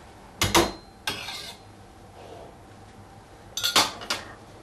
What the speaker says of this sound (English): I'll give this a good stir and then let it simmer